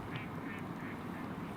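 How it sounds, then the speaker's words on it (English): Ducks quack faintly in the background outdoors in snowy Queenstown, a few soft calls rising over a steady low ambient rumble. "Can you hear the ducks in the background?"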